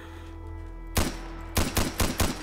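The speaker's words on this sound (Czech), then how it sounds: "ono to fakt střílí zápalnou munici" A gun firing incendiary ammunition in Fallout 4, heard as one loud shot followed after a pause by a rapid string of four punchy bursts, close and forceful over a low steady game hum.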